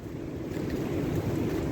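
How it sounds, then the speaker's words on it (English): Strong wind blows steadily outdoors around a cabin on a stormy day, a close, continuous low roar buffeting the microphone with no pauses. "Wind is atrocious today."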